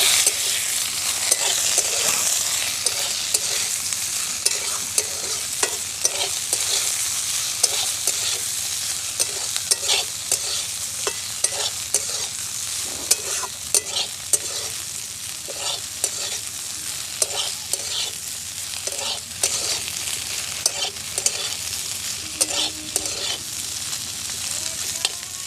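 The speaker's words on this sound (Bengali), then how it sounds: "নেড়ে চেড়ে নিয়ে ভেন্ডিটা তুলে দিলাম" Okra stir-fried in a pan with dried chili and bay leaf, sizzling steadily close by while a utensil scrapes and stirs in repeated strokes throughout.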